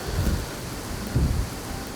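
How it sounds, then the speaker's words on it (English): Steady rain falls outdoors near a bean field during a hunt, a constant hiss of drops with low rumbling swells underneath. Fairly faint, with no talk. "Unfortunately, it brought rain."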